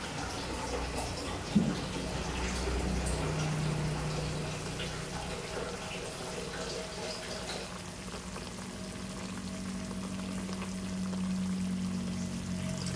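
Water pours steadily into a pot of rice being prepared for cooking, a continuous soft splashing rush that holds for several seconds at close range.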